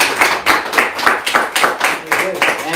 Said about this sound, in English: Let's give Dale one more round of applause.